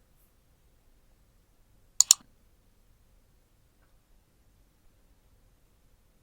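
A computer mouse gives a quick double click, close and crisp, alone in an otherwise near-silent room.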